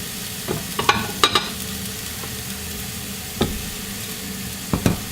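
Mushrooms frying in a pan, with a steady low sizzle and a handful of sharp scraping and clinking stirs scattered through it, fairly close and with no voices.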